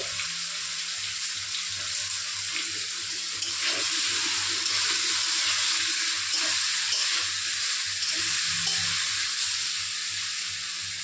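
Small local fish frying in oil in a pan with salt and turmeric, giving a steady continuous sizzle and crackle, fairly close and unbroken, with no talk.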